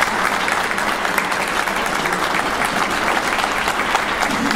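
Audience applause after music at a program on North Texas in World War I, a dense, steady round of clapping from a crowd, close and sustained for several seconds.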